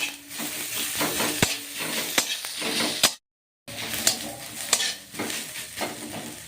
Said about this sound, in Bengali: এখন আদা রসুনের থেঁতোটা দিয়ে দেবো, থেঁতো করা একসঙ্গে দিয়ে দিলাম। এটা ভালো করে ভেজে নেবো।